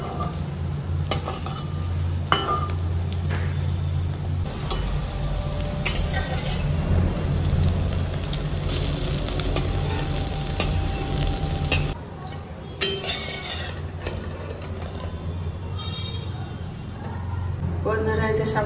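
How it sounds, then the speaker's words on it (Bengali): Food frying in a pan with a continuous loud sizzle, joined by stirring and occasional clinks of utensils against cookware, with a voice heard at moments. "ভেজে তুলছি।"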